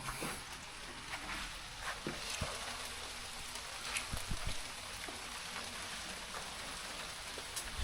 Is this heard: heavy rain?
yes